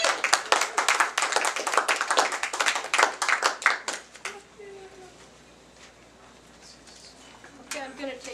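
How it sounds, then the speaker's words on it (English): An open mic audience claps for a performer, a burst of fairly close, distinct handclaps that fades into quiet room sound after about four seconds, with a few scattered later noises. "Give a round of applause for J.W. James."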